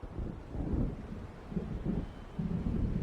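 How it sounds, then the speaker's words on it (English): Low rumbling thunder rolls in from an approaching storm over open water in Alan Wake Remastered, a dull, distant, continuous roar with wind-like noise and no voices. "It seems there's a storm coming."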